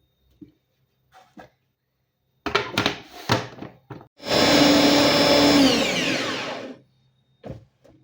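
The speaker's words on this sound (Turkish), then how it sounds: "Baya bir domateslerimi robottan geçirdim" A few thumps and clunks, then a food processor chopping tomatoes whirs loudly and steadily for about two and a half seconds and winds down, followed by a couple of soft knocks.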